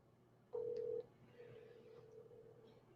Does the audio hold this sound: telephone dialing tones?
yes